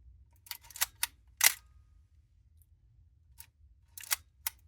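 Several sharp mechanical shutter clicks from a Nikon F3 film camera, spaced irregularly with pauses between, close and crisp over a faint low hum.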